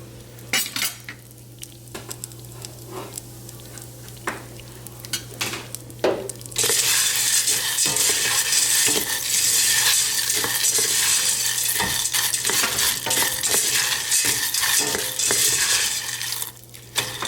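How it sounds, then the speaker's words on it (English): Sopita pasta frying golden in a pan, first with clattering spoon strokes against the pan, then a loud, dense sizzle that swells and holds while stirring knocks continue over it, with no talk. "I let it sit for a bit at first just so it could start getting a nice golden brownish color, and then I start stirring everything up."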